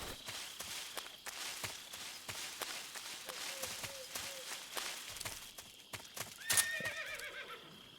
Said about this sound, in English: You just heard a horse?